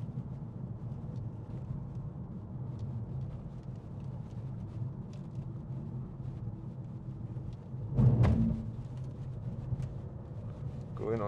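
A 2016 BMW 435d M Sport coupe with automatic xDrive rolls over a cattle grid: a steady low cabin road hum, broken by a brief loud rattling thump about two-thirds of the way through, then the hum resumes.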